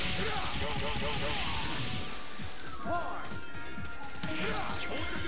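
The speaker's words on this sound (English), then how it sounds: "Chain gun." Rapid chain gun fire in the Power Stone fighting game, a dense burst of crashing, crackling shots with ricocheting whistles and impacts, loud and continuous over the game's background music.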